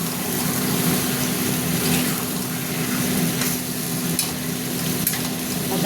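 Fat curry masala with yogurt being stirred in a pan, giving a steady close sizzle with soft scraping strokes of the spoon running throughout, no talking.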